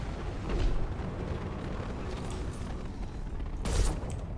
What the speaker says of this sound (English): A little mini nuclear explosion.